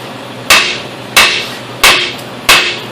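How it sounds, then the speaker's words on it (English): Four evenly spaced, sharp metallic hammer blows strike a ball joint on a 2001-2005 Ford Explorer front suspension, each ringing briefly up close. "I like to give this a good whack with a hammer a couple of times"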